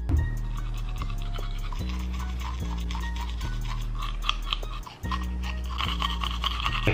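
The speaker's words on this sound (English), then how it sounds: "Let's start brushing." Brushing teeth with a soft Rilakkuma toothbrush with an anti-slip handle and strawberry toothpaste, a steady close scrubbing in repeated strokes running throughout without talk.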